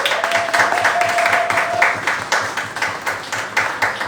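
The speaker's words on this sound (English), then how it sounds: "Let's give our trainees a round of applause" A room of people at a youth skills-training open day claps for the trainees, a loud, brisk burst of applause with a faint tone under it, thinning slightly toward the end.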